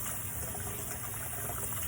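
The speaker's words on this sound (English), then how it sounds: "So now we're going to rinse with warm running water." Warm tap water runs steadily over a metal implement being rinsed, a constant close gushing splash that holds an even level throughout.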